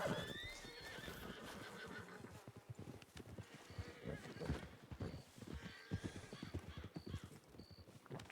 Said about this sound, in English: I wonder what these horses are running away from.